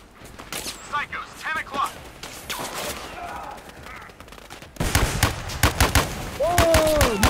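Gunfire in the VR shooter Zero Caliber, played on a Wizdish ROVR omnidirectional treadmill: a dense burst of loud shots in the second half, over an earlier stretch of talk and game noise.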